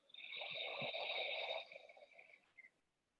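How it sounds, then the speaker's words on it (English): A long, deep breath drawn in during a yoga session, steady and airy for about a second and a half, then tapering off with a few softer breathy puffs, close and fairly quiet with no talking. "Big inhale."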